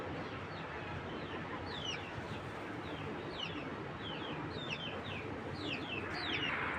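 A flock of pigeons, including Madrasi Giribaz and racer types, coos and chirps continuously with many overlapping short calls over a steady, dense background of loft noise, with no speech.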